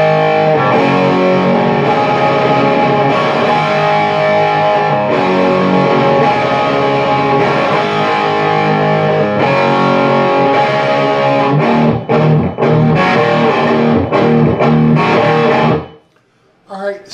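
A distorted electric guitar plays an outro riff, a loud, sustained, chord-heavy phrase running continuously before cutting off near the end.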